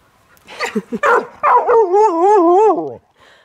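A dog lets out a few short yips, then a long, wavering, howling bark, loud and close, ending abruptly.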